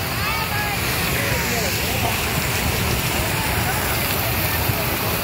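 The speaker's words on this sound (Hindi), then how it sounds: "बारिश हो रहा है इधर" Rain pours at a park in Jamshedpur, a dense steady hiss of drops with broadband noise that stays constant throughout, while people talk over it.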